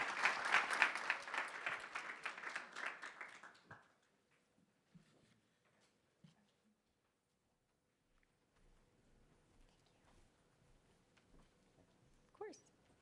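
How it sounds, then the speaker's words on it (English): A conference audience at a Clinton Global Initiative 2024 session on water access applauds after a panel, a dense burst of clapping lasting about four seconds before dying away into a quiet room with a few faint stray noises. "Let's have a warm round of applause"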